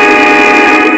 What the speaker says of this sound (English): What kind of horn is this?